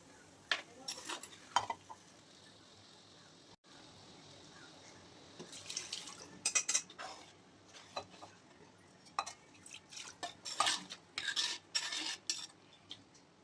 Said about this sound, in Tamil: இப்போது அந்த கறி வேக வச்ச தண்ணியையும் ஊற்றி கிளறிப்போம்